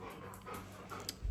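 Pet dogs pant quickly and softly at home, a steady rhythm of breaths with faint whimpering, close by but quiet.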